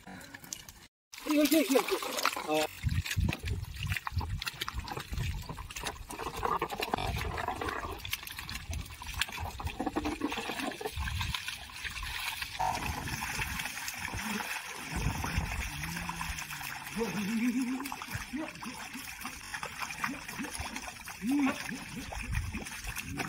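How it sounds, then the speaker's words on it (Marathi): Water is splashed and sprayed onto dry farm soil under hot midday sun, making a steady rushing, trickling wash that continues throughout, with a person speaking over it. "या ठिकाणी आता वहिनी पाणी मारत आहेत बघा"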